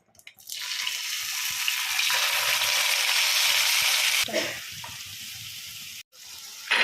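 Oil and masala frying in the same pan used earlier to fry raw banana slices for a banana curry: a steady, loud broadband sizzle that swells after a soft start, dips briefly near the end, then resumes.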